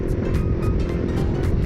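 A 2010 Honda CBR 125R motorcycle cruises in sixth gear, its small engine humming steadily under loud, gusty rushing wind noise that comes in repeated bursts.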